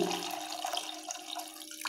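Water is poured into a cooking pot holding chicken pieces and bones seasoned with turmeric and salt, for a parotta salna curry. A steady, close splashing stream runs for about two seconds without a break.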